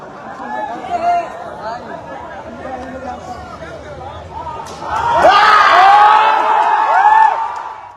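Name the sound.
crowd celebrating an election win on campus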